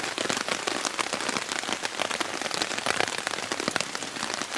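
Steady rain falls on a tent during a solo camping trip, a dense, close patter of drops with no voices and no letup.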